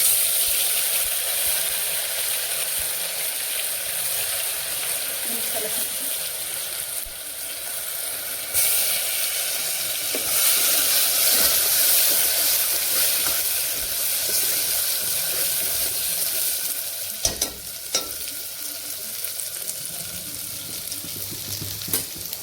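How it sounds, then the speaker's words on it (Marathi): Cumin seeds, ginger and garlic frying in hot oil, a steady, fairly loud broadband sizzle that swells around the middle and stays continuous throughout, with a few sharper crackles near the end and no voices. "तेल तपलेलं आहे का जिरे टाकून घेऊ अद्रक लसूण"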